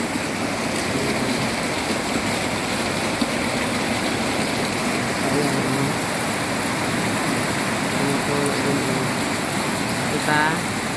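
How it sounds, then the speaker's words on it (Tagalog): Heavy rain pours steadily as a dense, continuous hiss over outdoor garden plants, loud and unbroken throughout. "Kasi ulan pala."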